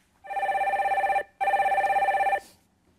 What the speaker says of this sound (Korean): 전화 연결 바로 들어갈까요?